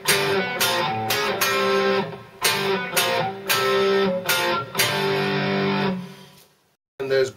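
An electric guitar plays a riff using no more than three strings at a time, through an overdriven tone. Chunky chord stabs come in short rhythmic bursts, then a brief silence before one more hit.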